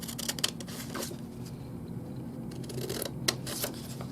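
Scissors cut a piece of paper for a handmade Valentine card, a few short snipping and rustling sounds close by, quiet against a faint steady hum with no talking.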